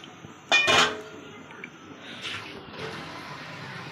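A sharp metallic clank of a lid lifting off a steamer pot cooking pearl millet idiyappam, with a brief hiss, followed by quiet kitchen rustling.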